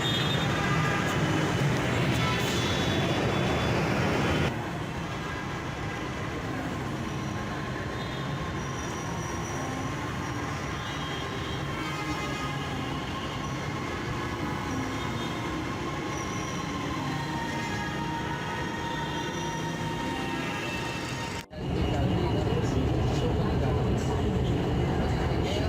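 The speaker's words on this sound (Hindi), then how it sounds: "अभी ये ऑरेंज ट्रेन आने वाली है" An Orange Line metro train runs through the station on its way in. The wheels rumble and squeal steadily and loudly for about twenty seconds. Ambient platform noise frames it before and after.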